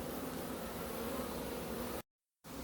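A honeybee colony droning steadily while a new laying queen is introduced, a close, continuous buzz that cuts out suddenly for a moment near the end before resuming.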